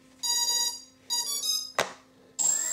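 Electronic speed controllers on a Flying3D X6+ hexacopter drone beep while booting: two sustained tonal beeps, then a sharp click and a higher final tone, all close and clear with no talking.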